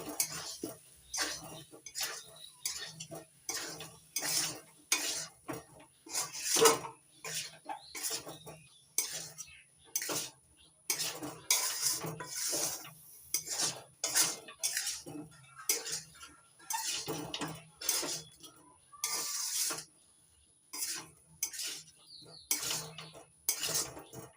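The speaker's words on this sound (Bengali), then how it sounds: "নাড়াচাড়া করে মিশিয়ে নিচ্ছি" A spoon scrapes and clinks steadily against a pan while taro (kochu) curry with black cumin paste is stirred and mixed, in repeated close strokes with no talk.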